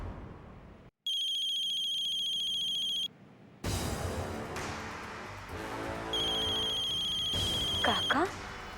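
A telephone rings twice with a bright electronic ringtone, first alone after a brief silence, then again faintly beneath talking voices and household noise in a Hindi TV drama scene.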